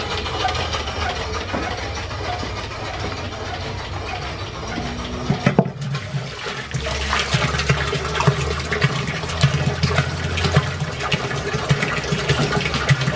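A steam-powered pump circulates water out of a feed water barrel in an old steam-driven machine shop, giving a continuous mechanical chug and clatter with a steady rhythmic thump that grows stronger partway through.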